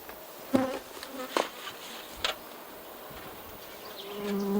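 Honeybees buzz around a bee yard during a honey harvest, a faint steady hum with several brief louder passes as individual bees fly close to the microphone.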